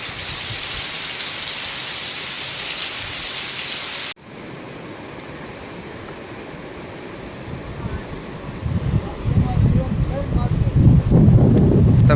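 Steady rain hisses throughout, with rough wind buffeting the microphone that swells louder and gustier toward the end.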